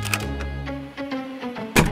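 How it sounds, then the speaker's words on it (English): A door-slam sound effect in an animation about exploding head syndrome: one heavy, close thud strikes near the end, cutting sharply over softer background music and effects. "Door slam!"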